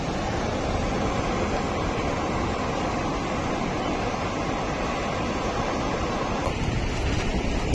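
Sea waves splash and wash continuously at Jampore beach in Daman, making a loud, steady roar of surf with no one speaking.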